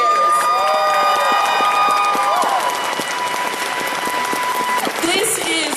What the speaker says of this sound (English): let's do a round of applause for the volunteers.